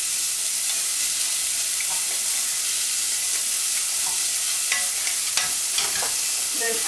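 Butter chicken ingredients frying in a pan and being stirred, with a steady, close sizzle and occasional scrapes of the spoon against the pan. No one speaks.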